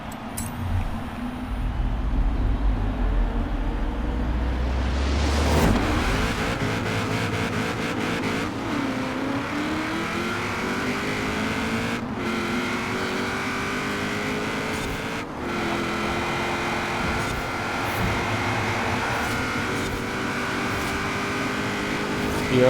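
Chevrolet Camaro IROC-Z engine in a Forza Horizon 4 race, revving hard through rising and falling gear changes with brief shift gaps, loud and continuous throughout.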